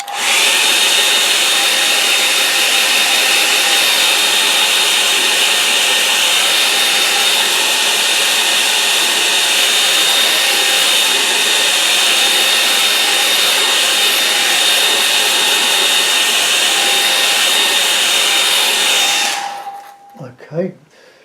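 A hair dryer blows loud and steady at close range, drying paint on a snow scene, its constant whine lasting about twenty seconds before switching off abruptly.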